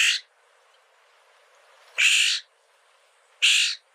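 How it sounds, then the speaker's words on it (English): Florida scrub jay giving three harsh, raspy calls, each about a third to half a second long, spaced well apart over quiet background; loud and fairly close. "Quite a distinctive sound to the scrub jay there."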